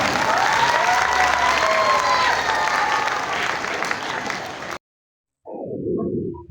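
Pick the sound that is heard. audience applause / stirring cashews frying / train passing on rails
audience applause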